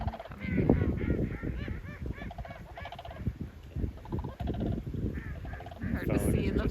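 A large flock of snow geese honks continuously, a dense overlapping chorus of calls at moderate distance, with faint voices talking in the background.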